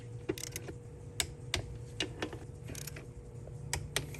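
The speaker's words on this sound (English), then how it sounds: "he's going to use the torque wrench" A torque wrench tightens the master cylinder nuts on a 3rd-gen 4Runner or 1st-gen Tacoma to 9 foot-pounds, giving sparse, sharp, close clicks over a low steady hum.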